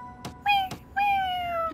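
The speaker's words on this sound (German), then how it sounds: "Sieh mal, die Katze ist da, um etwas mitzunehmen." Cartoon cat meowing in a German-dubbed children's animated series about a little bus: two clear, close meows, a short one followed by a longer drawn-out one, separated by soft clicks.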